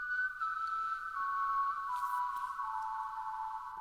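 A single man whistles a slow, sustained melody recorded on a phone voice memo, clear and fairly close, with gently sliding pitch and no other sounds.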